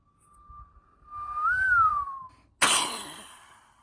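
A person imitating a firework with their voice: a thin rising-and-falling whistle, like a launch, followed by a sudden loud hissing burst that fades out, all close up and without words.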